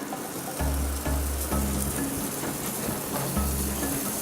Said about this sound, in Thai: แต่เบคอนที่เราต้องผัดอย่างนี้นี่เนี่ยก็ก็ต้องผัดให้มันแบบ กรอบเลยแห้งเลย